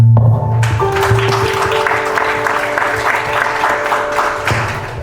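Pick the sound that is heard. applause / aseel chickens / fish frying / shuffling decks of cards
applause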